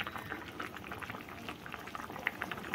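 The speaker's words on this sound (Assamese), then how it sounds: "এই সবজি দিয়া তৰকাৰীখন এখন উতলিলে" A pot of vegetable curry with green chillies boils steadily, a dense, continuous bubbling and popping close by with no voices.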